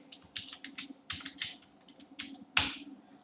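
Code being typed on a computer keyboard, with quiet, close bursts of rapid keystrokes in uneven runs and one sharper, louder key strike near the end. No voices.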